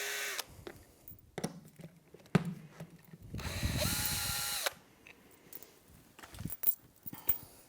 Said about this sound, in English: make sure it's loose by turning the drill first and then slowly removing the bolt